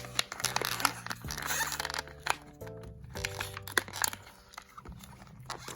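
Crinkling plastic and snipping sounds as a plastic band is cut to free a small Disney Cinderella doll from its packaging, with irregular close rustles and clicks and a faint tonal hum in the background.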